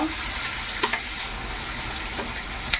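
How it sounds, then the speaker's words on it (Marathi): Chopped onion fries in hot oil for pav bhaji with a close, steady sizzle, and a few soft clinks from stirring come through. "तर कांदा टाकून घेऊया मस्त असा कांदा तर भाजून घेऊ खरबूस होईपर्यंत"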